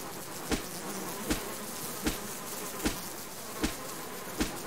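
Bees buzz steadily in the survival video game Subsistence, with a continuous swarming drone broken by evenly spaced sharp clicks about every three-quarters of a second.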